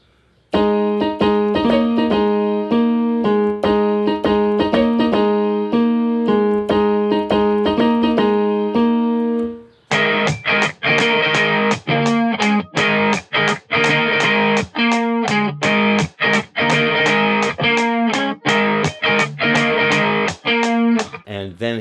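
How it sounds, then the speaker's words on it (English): Distorted electric guitar riff: a sustained chordal pattern, then a choppy, rapidly repeated figure of sharp staccato stabs, loud and close with no voices. "This is the guitar riff for that section."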